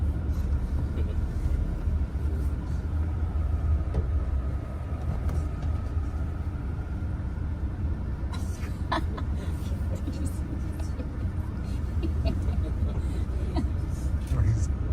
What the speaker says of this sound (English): Oh, but first we have to let that other bus pass.